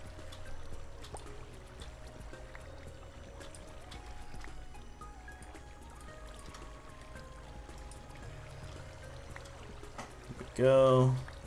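Water flowing in the Minecraft video game, a steady soft trickling stream running throughout beneath sustained electronic game music tones, with a brief louder splash-like burst near the end.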